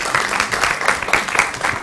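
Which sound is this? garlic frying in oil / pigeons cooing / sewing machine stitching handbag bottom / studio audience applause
studio audience applause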